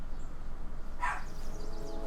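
In the King's Quest video game, a dog gives a single short bark at mid-clip, brief and fairly clear over a quiet ambient game background.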